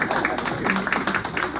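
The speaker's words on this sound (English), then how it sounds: "I think we should clap" Audience applause at a book talk, a dense, steady patter of many hands clapping throughout, fairly loud and even with no clear pauses.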